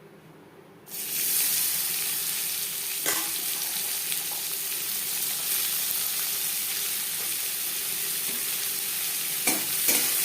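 Mustard oil heats in a wok used earlier for frying potatoes. After a second of quiet, a loud, steady, close sizzle suddenly starts and carries on with a few faint stirring clicks.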